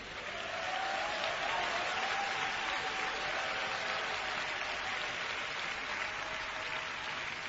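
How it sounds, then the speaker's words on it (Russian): A church congregation at a Russian-language sermon breaks into sustained applause, a broad, steady clatter of many hands that swells quickly and stays level, somewhat distant and muffled, with no talking over it. "Дайте ему аплодисменты."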